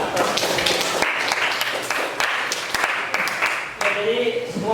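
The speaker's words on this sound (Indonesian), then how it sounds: "ini kan tepuk tangan untuk kelompok terakhir." A classroom of students claps for the final presenting group, a dense, steady patter of hand claps filling the room, with voices murmuring underneath and a voice speaking near the end.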